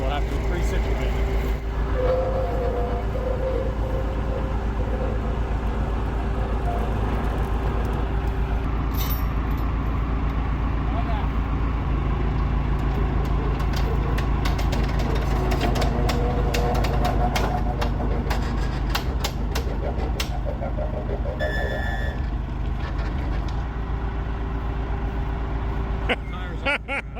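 A mechanical rock picker runs with its chain bound up inside the clutch, giving a loud, steady mechanical drone with deep rumble and scattered clanks, while faint voices sit under the noise.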